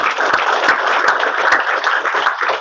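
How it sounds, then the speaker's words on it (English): An audience applauds children who recited verses at a Sri Ramakrishna birth celebration, a dense, even round of many hands clapping steadily throughout, fairly loud, with no talk. "So we can give them a round of applause."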